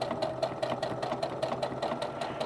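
A sewing machine stitching elastic on a skirt with an eighth-inch stitch, a fast, even run of rhythmic needle clicks over a motor hum, close and steady throughout.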